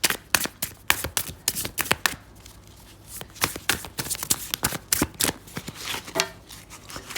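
Tarot cards are shuffled by hand in quick bursts of crisp riffling clicks and slaps, close and fairly loud, with brief pauses between runs.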